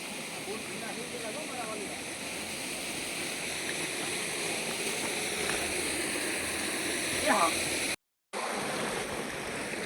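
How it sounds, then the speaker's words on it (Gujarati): Mountain stream at Sandhida Mahadev flowing in a steady, broad rush of water, constant and fairly loud throughout, with a faint voice or two underneath and a brief dropout near the end. "ભાઈ ઝરણું મસ્ત વહે છે"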